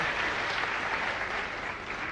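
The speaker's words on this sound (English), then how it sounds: "You should have applauded more." Sustained audience applause at a pageant grand finale, dense and steady clapping from a crowd throughout, loud and continuous with no talk over it.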